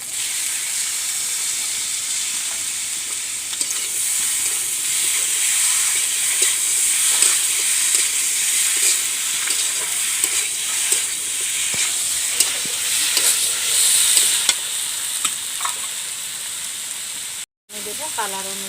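Marinated chicken hits hot oil for a curry with potatoes and sizzles loudly and steadily in the pan, with scraping stirs and a faint hiss of steam, and a voice comes through now and then.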